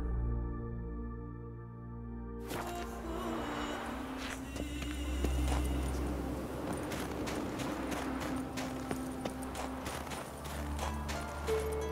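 Roach, Geralt's horse in The Witcher 3, gallops with steady, close hoofbeats over ambient game music after a short quiet start.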